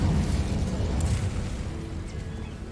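An Incendio fire spell in Hogwarts Legacy lets out a steady, dense roaring blast that holds loud for several seconds and fades a little toward the end, with no voices over it.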